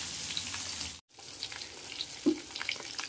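Bitter gourd pieces frying in oil with onion, a soft even sizzle that cuts out for a moment, then resumes with faint crackles and a single dull knock partway through, no voices.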